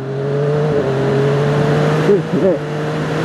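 A Triumph Daytona 675R sport motorcycle ridden hard on a bumpy road gives a loud, steady engine drone, with two quick rising revs near the end and wind rush throughout.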